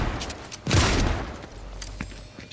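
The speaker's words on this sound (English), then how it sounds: "someone's shooting at us already. Come on. Oh, it is a shotgun." A shotgun fires in the video game Fortnite, one sharp, loud blast followed by a decaying boom and faint scattered pops behind it, with steady background game noise and no voices.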